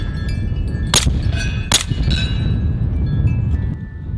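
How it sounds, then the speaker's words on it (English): Two sharp metallic rings from steel gong struck by pellets from a Western Rattler 45 long-range airgun, the impacts about a second apart and ringing briefly over steady outdoor background noise. "let's go for that gong again"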